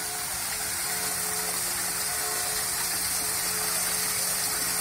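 A small, human-height waterfall in Truskavets, Ukraine, roars steadily and close by, a constant hiss and rumble with no breaks.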